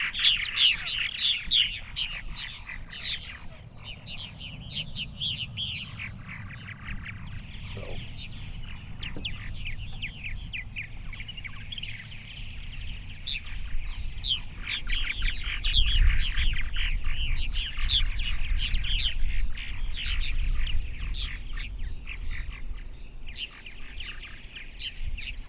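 Purple martins chirp and twitter in a busy, continuous chorus of bright calls, with a low rumbling background underneath throughout the clip.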